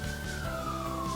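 An ambulance siren wails outside in a city in southern China, one long tone sliding slowly downward, steady and moderately loud with no talk over it.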